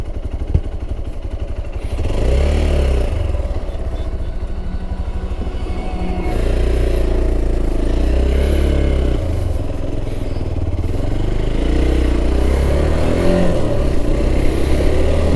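A Hero Xpulse 200 4V motorcycle turns around and rides off, its engine loud and close, with gears changing and revs rising and falling repeatedly over a steady, throbbing drone.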